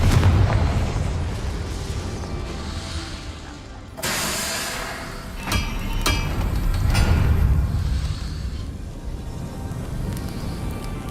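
A Confringo fire spell bursts in a Hogwarts video game, a sudden loud blast with sharp crackling pops and a rumbling, hissing tail that swells again before fading into a low roar.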